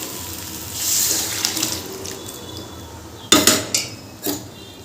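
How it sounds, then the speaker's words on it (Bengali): Water from boiled chickpeas is poured from a vessel into a pan of sautéed ghugni in a home kitchen, a steady splashing pour followed by a few sharp metallic clinks of utensils against the pan. "এবারে আমি দিয়ে দিচ্ছি এই ছোলা মতো সেদ্ধ করা যে জলটা ছিল সেই জলটা"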